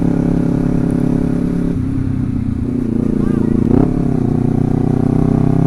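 A Honda CBR250RR motorcycle engine revs close up, shifting from a steady idle into sharper blips, with someone talking over the sound.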